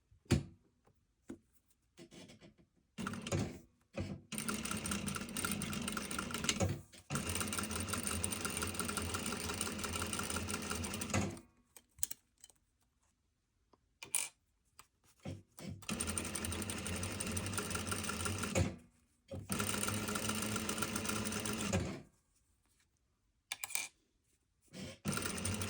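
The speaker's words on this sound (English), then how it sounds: "you're going to sew that with about a 1/2 inch seam" A sewing machine stitches a front fly zipper seam in several sustained bursts of rapid, buzzing needle action, separated by short pauses and a few clicks, close up with no voices.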